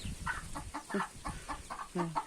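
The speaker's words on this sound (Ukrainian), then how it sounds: "курі бігають по всьому подвір'ї" Chickens clucking in short repeated bursts close by in a farmyard, a steady run of hen chatter with a rooster-like tone at times, ducks also present.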